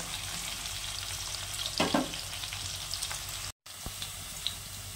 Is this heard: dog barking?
no